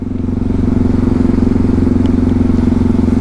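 A Yamaha MT-03 660 motorcycle engine runs steadily at close range, a loud, even throbbing idle or low-rev rumble that holds constant throughout with no talk over it.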